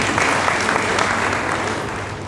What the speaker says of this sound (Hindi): एक बार जोरदार ताली से उनका स्वागत करें।